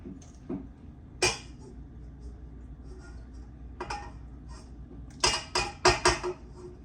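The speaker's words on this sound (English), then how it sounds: "I'm going to just use a fork. And we're going to mix that." A fork clinks and scrapes against a bowl while stirring cake batter ingredients, with scattered taps early and a quick burst of clinks near the end, close and fairly quiet.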